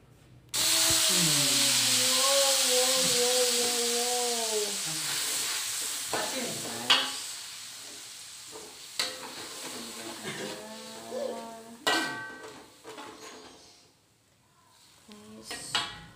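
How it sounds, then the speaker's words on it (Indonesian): A loud burst of sizzling as food drops into hot oil, gradually easing into a steady crackle with occasional clinks of stirring utensils. "Ini aku udah panasin minyak, aku mau langsung aja masukin."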